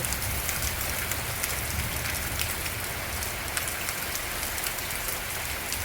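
Heavy rain pours down steadily in a dense, even hiss that stays loud and unbroken throughout, with no voices.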